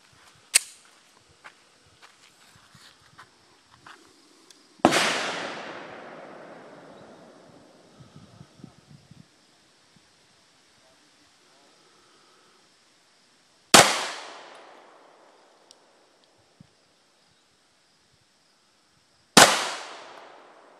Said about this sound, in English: He's shooting at 25 feet. He's going to do five rounds